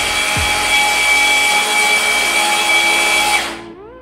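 Bosch Bulldog GBH18V cordless SDS Plus rotary hammer running under load, a loud, close, steady whining drone that holds for about three seconds before spinning down and stopping.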